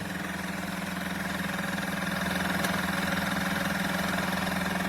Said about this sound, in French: Après on peut entendre le moteur qui augmente